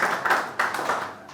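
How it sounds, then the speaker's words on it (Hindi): A short burst of clapping from an audience at a poetry gathering, a few loud, uneven claps standing out from softer hand claps. "एक बार जोरदार तालियां हो मनीष मधुकर जी के लिए।"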